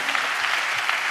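A church congregation claps together in praise, a dense, steady patter of many hands that carries on without a break, with no voices over it.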